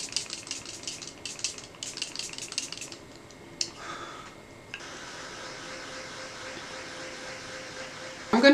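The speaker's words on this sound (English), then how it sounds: "we're gonna go ahead and just spray our face" Short repeated hissing bursts of makeup setting spray sprayed onto a face, several quick pumps in a row followed by a longer fainter hiss, close to the listener.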